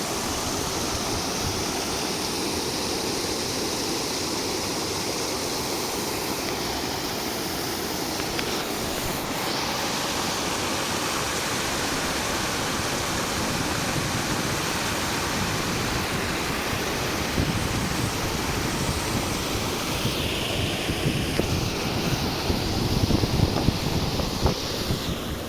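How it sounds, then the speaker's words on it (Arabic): A waterfall in a German garden pours continuously, a loud, steady rushing roar of falling water close to the microphone, with some wind buffeting. "ده طبعا شلال تاني."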